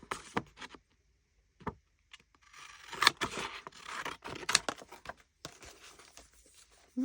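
Scissors cutting paper for a journal page, with intermittent close snips and papery rustles separated by short pauses, quiet and without speech.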